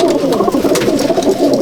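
Madrasi pigeons coo steadily inside a loft at Dattapukur, their throaty calls overlapping into a dense, continuous murmur that stays close and fairly loud throughout.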